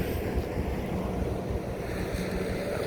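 Sea waves wash continuously near a shore on a breezy coast, a steady roaring surf mixed with gusting wind rumbling across the microphone.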